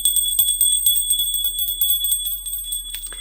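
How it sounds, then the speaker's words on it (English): A bell rings with a bright, sustained metallic tone and rapid repeated strikes, loud and close, continuing throughout with no talking. "Ring the bell for freedom."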